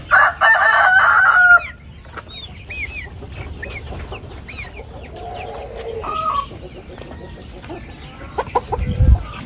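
Imported D853 parent stock breeder hens in a poultry house: a loud rooster crow opens, followed by scattered clucking and calls from the flock, with a brief low thump near the end.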